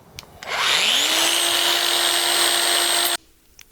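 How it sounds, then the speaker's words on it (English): Angle grinder fitted with a cutoff wheel spins up with a rising whine, then cuts metal in a loud, steady, harsh screech for about two and a half seconds before stopping abruptly, close by. "To cut it off, I'm going to use an angle grinder with a cutoff wheel"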